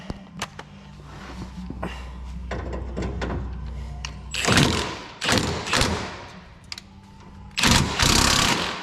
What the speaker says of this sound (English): now I'm gonna use a chrome extension on a chrome socket to an impact.